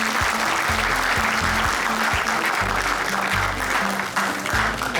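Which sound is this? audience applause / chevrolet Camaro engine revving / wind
audience applause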